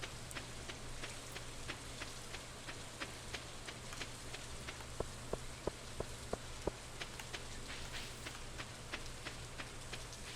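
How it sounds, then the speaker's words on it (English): Steady video game rain in Stardew Valley patters on a surface with a soft constant hiss, a few sharper drops ticking through, no voices. "I quite enjoy the sound of the rain."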